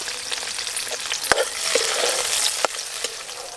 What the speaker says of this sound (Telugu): ఇప్పుడు మనం ఎల్లిపాయలు వేసుకుందాం.